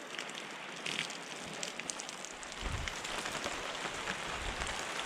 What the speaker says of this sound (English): this is kind of like a heavy rain situation